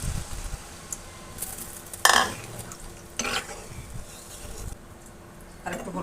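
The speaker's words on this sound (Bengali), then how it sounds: "এবার বন্ধুরা পরিমাণ মতো ঝোল দিয়ে দিব।" Broth poured into a hot pan of green banana curry sets off a sudden loud sizzle that fades into a low simmer, with light stirring and brief talk around it.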